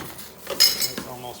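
A spoon scraping and clinking against a pot while soup ingredients with frozen corn are mixed, a few brief metallic knocks close by and a faint murmur of voice.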